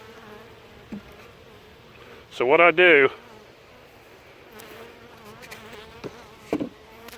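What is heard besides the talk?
wasp and bees buzzing around a hive box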